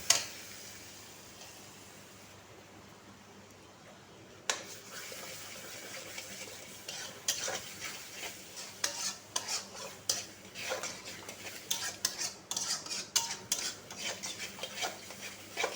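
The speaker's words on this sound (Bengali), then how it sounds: "এবার টক দই দিয়ে খানিকক্ষণ নাড়তে থাকবো।" Spiced potato curry with sour yogurt is stirred in a pan, starting with a quiet low hiss and then a run of irregular scraping and clinking stirs, close and moderately loud.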